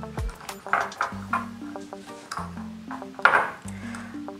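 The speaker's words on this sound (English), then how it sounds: "I take my mixing spoon and I mix this all together" A mixing spoon clinking against a metal pot while stirring ground spices for pilau masala, with quick ringing taps at an uneven rhythm, close and fairly loud.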